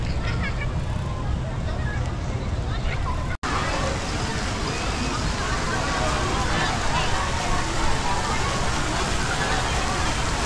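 Steady, dense rain roars across the whole clip at night, loud and close, with a sharp click partway through and faint chatter from a crowded spot blended underneath.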